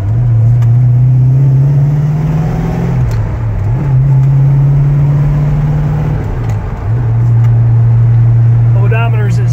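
A 1970 Buick GS with a four-speed manual pulls away, its engine droning loud and near, rising and dipping with each gear change, with talking over it.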